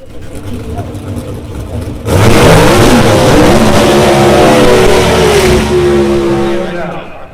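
A drag racing car at the Gator Nationals does a burnout, the engine suddenly roaring loud and revving hard with a harsh, rasping spin that holds steady for several seconds before easing, over earlier crowd and PA murmur.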